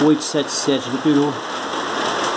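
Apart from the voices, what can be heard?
rain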